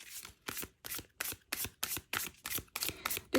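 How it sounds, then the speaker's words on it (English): A deck of tarot cards being shuffled, giving about ten crisp, evenly spaced riffling bursts close to the listener, each a short papery flutter with brief gaps between. "So I'm going to shuffle the deck."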